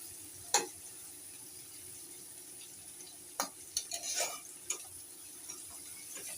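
Onion frying in a pan while a fish dish is cooked, a soft steady sizzle hiss with a few sharp clicks and scrapes of a utensil against the pan.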